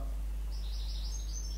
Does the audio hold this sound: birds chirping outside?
yes